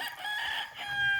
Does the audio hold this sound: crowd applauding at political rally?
no